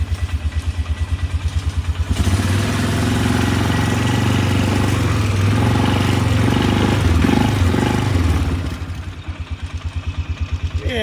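A four-wheeler ATV engine idles a little high, its steady pulsing rumble close and loud throughout, with the regular firing beat showing clearest at the start and end.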